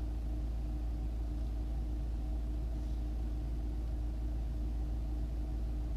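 A car engine idling steadily in place, a low continuous rumble with an even hum and no speech.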